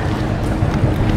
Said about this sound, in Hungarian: Lot of boats.